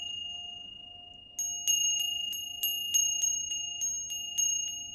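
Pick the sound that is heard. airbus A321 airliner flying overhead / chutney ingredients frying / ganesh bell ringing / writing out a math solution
ganesh bell ringing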